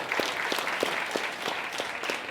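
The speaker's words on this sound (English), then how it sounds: "You can clap yourself." A small TEDx audience group claps briefly in an even, steady rhythm of distinct hand claps, fairly close and moderately quiet.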